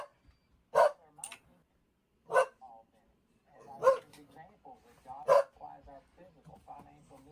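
A man imitates a dog with his voice, giving several loud, sharp barks at irregular intervals, spaced about a second or more apart, with some talking between them.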